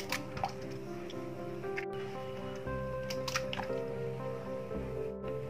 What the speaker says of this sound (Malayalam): രണ്ട് മുട്ടയാണ് ഒരു ബോളിലേക്ക് പൊട്ടിച്ച് ഒഴിക്കുന്നുണ്ട്